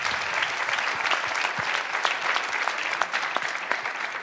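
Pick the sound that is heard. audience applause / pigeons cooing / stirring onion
audience applause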